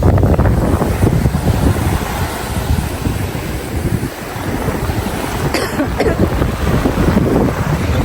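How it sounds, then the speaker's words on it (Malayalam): Strong gusting wind outdoors in the Ladakh mountains, a loud, continuous roar buffeting the microphone with rumbling low-end surges that barely ease, close and overwhelming. "നല്ല കാറ്റാണ് കേട്ടോ."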